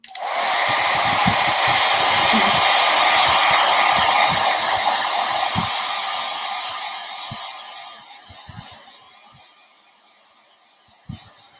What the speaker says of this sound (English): I'm going to hit it with the blow dryer